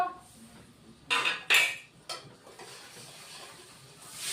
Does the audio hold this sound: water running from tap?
no